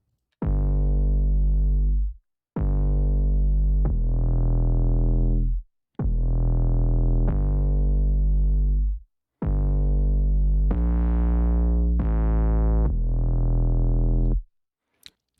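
A loud, deep bass synth plays sustained notes in long phrases separated by short gaps, with a buzzy, slightly distorted tone and nothing else present.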